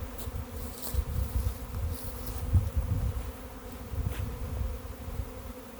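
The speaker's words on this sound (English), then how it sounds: "see how the bees are coming to the metal mesh can" A honeybee swarm gathers at a metal mesh can on the ground, its steady, dense buzzing drone continuing throughout at moderate level.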